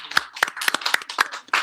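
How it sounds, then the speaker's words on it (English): A handful of people clapping, sparse and uneven, individual claps distinct and close, lasting under two seconds. "but can we have a big round of applause?"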